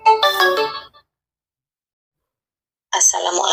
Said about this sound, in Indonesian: Dek Iyut, sebentar ya, aku angkat telepon dulu ya.